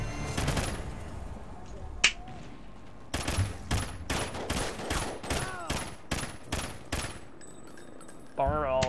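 Bursts of M27 rifle fire ring out in Call of Duty Ghosts: a sharp lone shot, then about a dozen evenly spaced, loud, crisp cracks in steady rhythm, followed by a brief squeal of game sound at the end.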